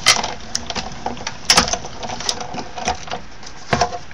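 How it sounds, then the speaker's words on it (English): A Big Shot die-cutting machine presses paper through a scallop die, giving irregular creaks, clicks and thumps from the hand-cranked rollers, close by, with a few sharper knocks along the way. "So I'm just going to run this through my machine super quick, and we're going to have some scallops."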